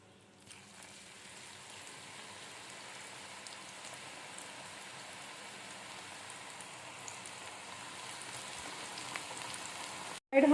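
Onion pakoras frying in a pan of hot oil, a faint, steady crackling sizzle that grows slowly louder over about ten seconds, ending with a sharp clatter at the very end.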